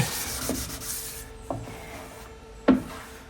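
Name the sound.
sanding a car body panel on a 32 Coupe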